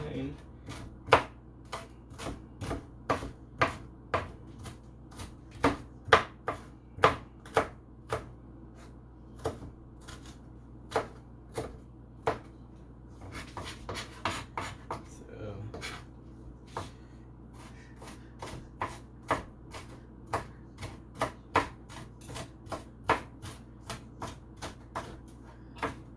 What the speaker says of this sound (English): Chop them really nice and fine.